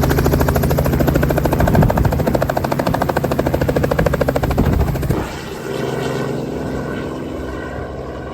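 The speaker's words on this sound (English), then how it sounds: "these guys are taking their first helicopter rides too" Helicopter beside a gold mining site, loud and close, with a steady chopping rotor beat that drops in level partway through and carries on with a lighter drone.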